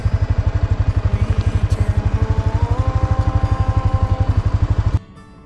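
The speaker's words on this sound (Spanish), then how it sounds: "Qué lindo esto de andar en moto" A motorcycle engine thumps along at a steady rapid pulse on the Camino de las Altas Cumbres, close and loud, with a slight pitch shift midway before cutting off abruptly near the end.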